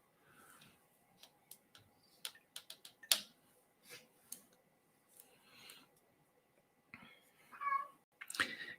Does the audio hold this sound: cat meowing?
yes